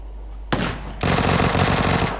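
A single sharp shot in PUBG Lite is followed by a sustained automatic burst lasting about a second. The fire is loud, close and fast, and no talking is heard over it.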